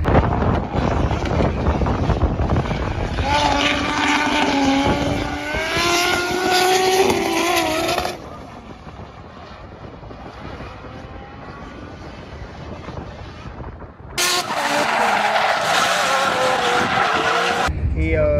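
Drift cars race at a championship final at Val d'Argenton, engines roaring and revving loud and close with squealing tyres for about eight seconds, then a quieter distant stretch before another car screams past near the end.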